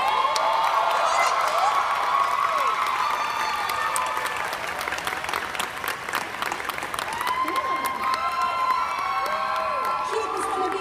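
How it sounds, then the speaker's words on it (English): Anime Expo convention audience at a Sailor Moon panel applauding and cheering, sustained clapping with whoops and shouts from a large crowd, as voices call out over the noise. "Give him a round of applause."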